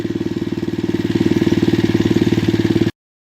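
A gas-powered generator engine runs steadily nearby, a loud, even chugging with a regular pulsing beat that holds for about three seconds and then cuts off abruptly into silence.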